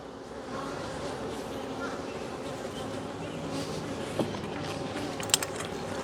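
Honeybees, many of them drones, in an open hive box that is noisier than the others, a dense continuous buzz close by with a few louder passes near the end.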